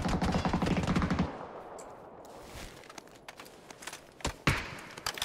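Gunfire in a battle royale shooter game, a rapid automatic burst up front followed by scattered single shots and footsteps, fairly faint overall.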